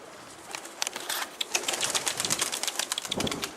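Pigeons in a loft cooing close by, a run of throaty rolling coos that swell and repeat over a light fluttery background.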